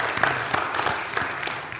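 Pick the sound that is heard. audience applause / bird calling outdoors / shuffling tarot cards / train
audience applause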